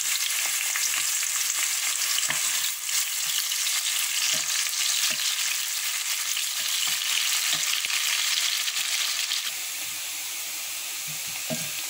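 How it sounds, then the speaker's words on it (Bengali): Onions sizzle steadily in hot oil in a home kitchen, a dense, continuous crackle with occasional soft stirring clicks; the hiss eases slightly toward the end and plays alone without any talk. "আমি পেঁয়াজটা আস্তে আস্তে করে ভেজে নিই"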